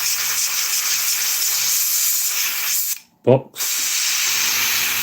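An airbrush spraying paint onto a cockpit container box of an Italeri 1/48 Pave Hawk scale model, a steady close hiss that cuts out briefly and resumes, with someone speaking during the pause.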